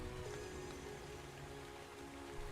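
Rain falls in a video game while a large house interior is being rebuilt, a soft, continuous patter of drops that stays even and fairly quiet for the whole stretch with no voices.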